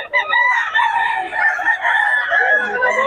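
A Sweater Kelso gamecock rooster crows close and loud in one long, strained call lasting about three seconds, with no voices.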